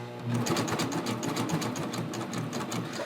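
A sewing machine stitches a triple cover hem on a neckline, its rapid, even mechanical chatter running steadily and close throughout, with no speech.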